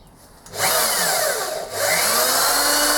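Power drill boring pilot holes for M5 bolts in a metal lathe tailstock, two loud sustained whining bursts separated by a short pause.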